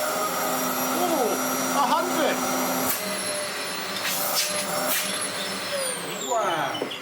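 A Dyson DC04 vacuum cleaner whines steadily up close, its pitch shifting as it moves, while people talk over the constant motor drone.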